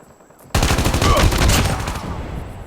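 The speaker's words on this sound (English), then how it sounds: "try to shoot them as they come" Gunfire erupts in Call of Duty Mobile Season 7 as a sudden, loud burst of rapid automatic shots after a brief quiet start, then tapers slightly over two seconds.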